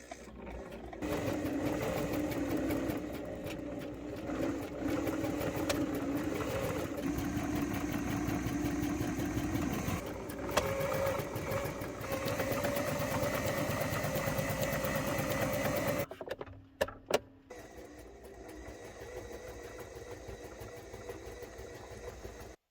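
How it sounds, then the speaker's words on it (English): A sewing machine runs steadily with a droning motor whir while mending torn shorts. It stops briefly and restarts, then ends with a few clunks, followed by quiet room noise. "so I'm going to get out the sewing machine now and just try to fix all this myself"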